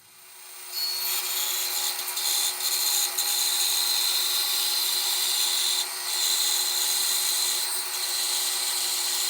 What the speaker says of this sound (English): And then I'll bandsaw them.